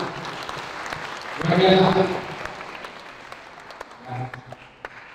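A school audience at an Indonesian high school event breaks into a short burst of applause, swelling briefly and fading, with someone speaking over and after it.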